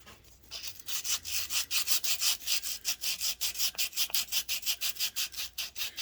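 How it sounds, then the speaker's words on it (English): Sandpaper rubs against the front crankshaft seal area of a Kohler Command Pro 20HP engine in quick, even back-and-forth strokes, about four per second, close and alone. "Now I'm going to go ahead and sand the front of this here."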